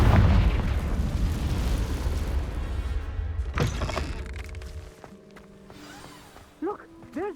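Confringo fire spell blast in Hogwarts Legacy, a loud, close, roaring rumble of explosion that fades out, followed by quieter magical chimes and whooshes with a short voiced exclamation mixed in.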